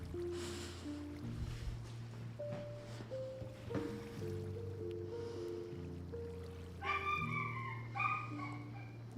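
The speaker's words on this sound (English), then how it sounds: "You can hear my dog." A pet dog barks and yips indoors in a few sharp bursts near the end, set against steady electronic game music and a low fan-like hum.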